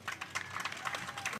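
Applause from an audience at an elementary school ribbon-cutting ceremony, greeting school board members as they stand, with a short burst of clapping that runs steadily and then stops abruptly.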